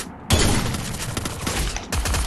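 Rapid bursts of automatic gunfire in a video game, loud and close, firing continuously with a brief pause before another burst.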